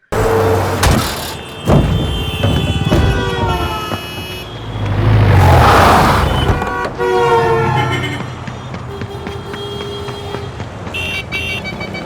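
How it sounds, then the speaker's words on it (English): Traffic car horns with a Doppler sweep, designed as film sound effects: loud, sustained tonal honks that bend in pitch as they pass, layered with a rushing swell in the middle and several shorter horn blasts near the end. "we used a Doppler effect of the horns of the traffic"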